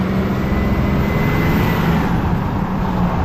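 A Ram 2500 diesel pickup with 200,000 miles and a newly fitted Bully Dog diesel particulate filter idles with a steady, low, even rumble, loud and close with no speech.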